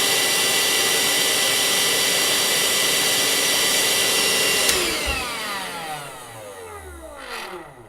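A Parkside 20-volt cordless vacuum cleaner whines at a high, steady pitch, then switches off and spins down, its tone sliding lower as the motor fades to near silence.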